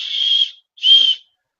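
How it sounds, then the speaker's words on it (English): Two short, loud, shrill blasts from a plastic whistle built into a backpack chest strap, each about half a second, with a brief pause between them and nothing else heard. "they actually have a whistle."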